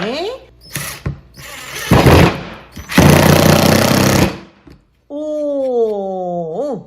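A power drill bores a 3 mm pilot hole before screws are driven. Two loud grinding bursts of about a second each are followed by a steady whirring whine that rises and falls at the end.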